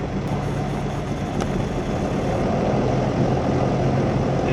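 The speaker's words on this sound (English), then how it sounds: "Now the alternator will help us start the left engine." The left piston engine of a Beechcraft Baron aircraft starts up and settles into a steady, rumbling idle, loud and close throughout with no talk.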